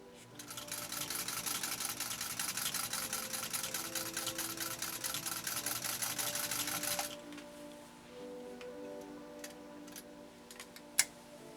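A 1949 Singer 66-8 sewing machine stitches steadily through thick layers with the presser foot pressure raised, a loud, fast, even mechanical clatter for about seven seconds, then it stops and leaves a quieter hum and a single sharp click.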